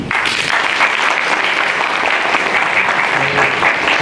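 Sustained clapping from an audience at a Korean political forum greets the host on stage. It is a dense, even roar of hands, close and loud, with no speech above it for about four seconds.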